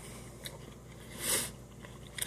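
A bite into a green apple slice topped with peanut butter, one short crisp crunch followed by faint chewing, quiet and close.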